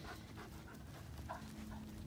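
A puppy pants quietly and rapidly close by, a soft rhythmic huffing with a faint whimper-like tone, low in level and without any talk.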